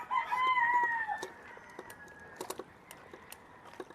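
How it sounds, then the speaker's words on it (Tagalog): A rooster crows loudly up close with a long drawn-out call, followed by scattered clucks and short bird calls from chickens, among many birds in a village setting, with no talking. "Ang daming manok."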